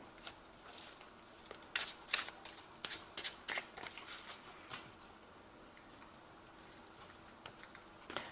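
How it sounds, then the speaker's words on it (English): Tarot cards shuffled by hand, a quiet run of crisp riffling ticks and flutters that bunch up in the middle and trail off into sparse taps, close and with no voices. "I have shuffled this deck"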